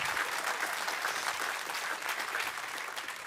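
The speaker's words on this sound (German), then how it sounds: "da kann man klatschen" A comedy show audience breaks into sustained applause, a steady, fairly close roar of many hands clapping with no break.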